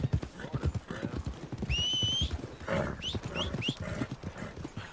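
Horse hooves clip-clopping in Red Dead Redemption 2, a quick irregular trot of close hoof knocks with a whinny partway through, loud and near, with a voice briefly heard.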